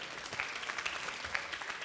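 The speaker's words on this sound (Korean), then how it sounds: "우리 다시 한번 크게 박수" A church youth-service audience in Gunsan claps in a brief, steady burst of moderate, somewhat distant applause.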